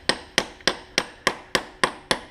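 A socket is tapped against a dirt bike shifter seal to drive it in, giving eight sharp, evenly spaced metallic knocks, close and clear, with no talking.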